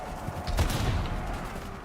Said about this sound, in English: you were right on that explosion, bug